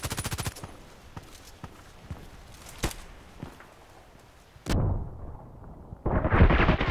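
Rapid bursts of gunfire in the online shooter Contract Wars, a fast volley at the start followed by scattered single shots and a louder blast near the end, with no voices.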